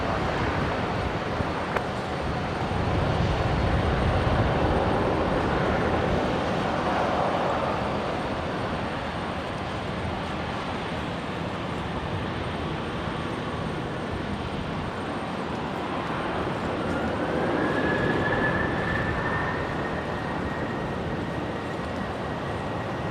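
Boeing 737 airliner taking off on runway 19 left at Brisbane, a sustained broad engine roar swelling and easing, with a rising whine emerging near the end.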